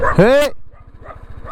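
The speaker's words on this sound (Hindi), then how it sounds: "यहाँ से कुत्ते दौड़ रहे हैं ना, तो ये बड़ा मुश्किल करते हैं।" A dog lets out one sharp, close yelp while a voice calls out briefly, followed by a low, steady motorbike engine rumble on a ride through Iraq.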